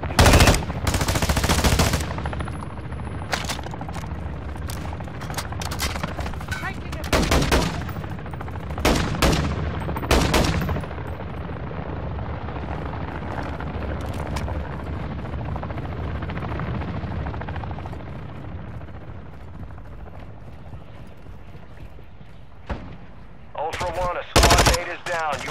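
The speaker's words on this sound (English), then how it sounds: "You are taking effective fire." Gunfire in a Call of Duty battle, loud bursts of automatic fire and heavy blasts over a constant helicopter-like rotor drone, with sharper shots returning near the end.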